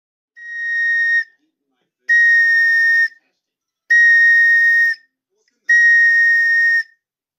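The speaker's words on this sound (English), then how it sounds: "Place the pen top in the middle of your lips and move the pen top in different positions until you get a sound" A plastic pen cap blown across like a flute gives four separate breathy whistle tones, each about a second long with short pauses between, loud and close, no speech.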